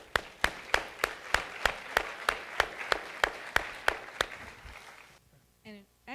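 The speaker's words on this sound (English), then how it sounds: "You ought to give yourself a round of applause." Sharp, evenly spaced claps ring out about three times a second for roughly five seconds, then stop, leaving a brief faint voice-like sound at the end.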